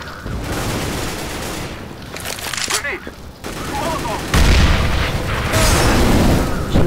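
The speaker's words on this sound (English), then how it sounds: "Machine gun." Sustained loud automatic machine gun fire in the video game CS:GO, dense bursts of rapid shots running under other game noise, with a player's voice audible at times.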